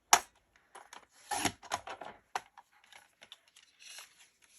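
Card stock is cut with crisp, close snips and scrapes, starting with a sharp click and then a string of short irregular cuts with quiet gaps between.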